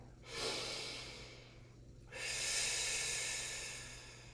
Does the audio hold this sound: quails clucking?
no